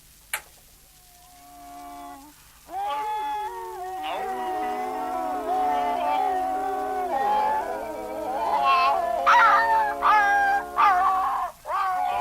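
Črnko the dog lets out long, wavering, tuneful howls with a few yelps, loud and close, rising and falling in pitch over several seconds, with a high meow-like quality.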